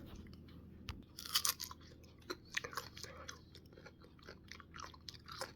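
Close-up crunchy chewing of mango, with crisp bites and wet munching in irregular bursts, loudest near the start, with no talking.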